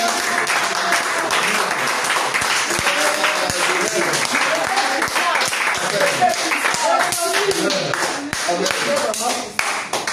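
A church congregation applauding and clapping together in sustained, dense rounds, loud and close, with voices calling out over the clapping.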